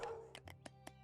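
A dog barks in the real-time strategy game 0 A.D. during a pro 1v1 match with cavalry, giving four short, quiet yaps spaced across about a second over faint game ambience.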